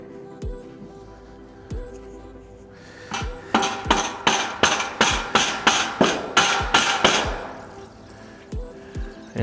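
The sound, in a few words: rubber hammer tapping metal wall panel base trim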